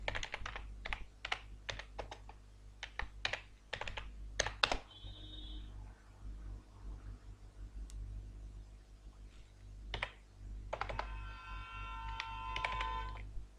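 Typing a heading into a spreadsheet cell on a computer keyboard: a run of sharp, close keystrokes, then a pause, then a few more clicks and brief electronic tones over a low steady hum.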